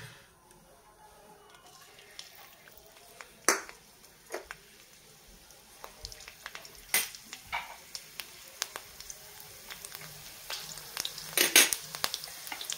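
Garlic fries in hot oil in a wok, a soft sizzle under repeated sharp clinks and scrapes of utensils against the pan, scattered and irregular, close by and without talk.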